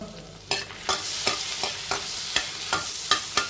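Chopped garlic and a bay leaf frying in a pan for a Marathi ashgourd fasting soup, with a steady sizzle and regular scraping stirs roughly every half second, close up, without speech.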